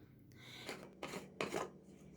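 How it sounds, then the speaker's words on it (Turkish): A cap is loosened and retightened on a bottle of fermenting şalgam, a homemade turnip and carrot drink, making a few quiet close scraping twists and rubs in short bursts. "Onun için kapağını gevşetiyorum ve tekrar sıkıştırıyorum."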